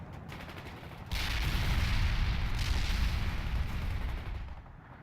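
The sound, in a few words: grenade fire and gunfire in World in Conflict video game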